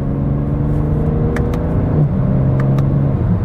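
A 2009 BMW E92 335d Coupé diesel engine hums loudly inside the cabin, holding a steady tone with a brief dip around a paddle-shift gear change.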